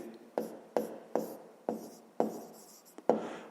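A pen scratches across paper in a series of about seven short strokes, each beginning crisply and tailing off, quiet and close with no voices.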